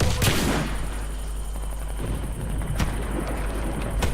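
Rapid automatic gunfire in the Warface video game rattles in fast, dense bursts over a constant low rumble, with a few sharper shot cracks standing out later on.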